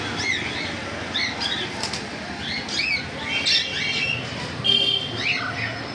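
Adult cockatiels squawk and chirp in shrill bursts while wings flap repeatedly, close by and fairly loud, with the calls scattered unevenly over a steady busy background.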